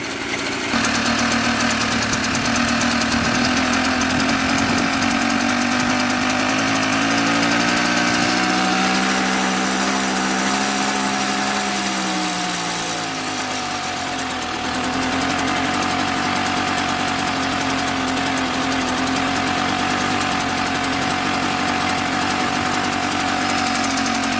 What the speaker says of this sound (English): And this little bike runs very nicely.